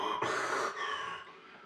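A storyteller imitates heavy breathing: a loud rasping breath in, then a softer, fading exhale, close to the microphone.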